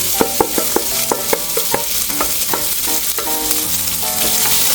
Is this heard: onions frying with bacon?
yes